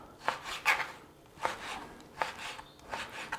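A knife chops beef on a cutting board in a home kitchen, striking in quick pairs of sharp taps with short pauses between, close and clear with no talk.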